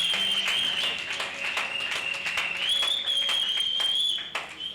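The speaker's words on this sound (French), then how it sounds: "Est-ce qu'on peut les encourager avec un tonnerre d'applaudissements?" A congregation in a church applauds a couple at a wedding celebration with a dense, continuous round of clapping, a sustained whistle-like tone riding over it throughout.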